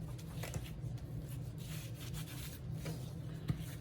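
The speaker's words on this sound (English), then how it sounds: "Let's give it a good rub in." Hands rubbing a dry spice rub into raw beef steak, a continuous soft scraping and rustling texture, close and steady with faint low background hum, no talk.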